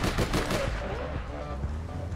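Gunfire in the online game APB Reloaded: a rapid burst of loud shots up front that thins into scattered, fainter reports, with some voice-like sound mixed in.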